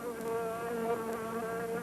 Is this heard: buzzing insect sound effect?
yes